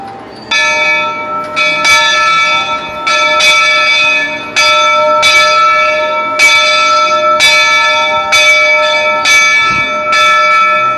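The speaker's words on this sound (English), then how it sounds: "I've just been told I can ring the bell." A large Disney train bell clangs repeatedly at a steady, unhurried pace, each strike ringing out with a long metallic tail that overlaps the next.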